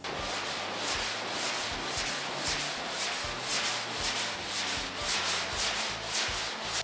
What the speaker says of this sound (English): We then grind the finish off